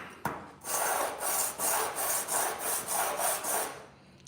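A truck thermostat housing is rubbed back and forth across flat sandpaper, about eight even rasping strokes in a steady rhythm, close and clear, with no talking.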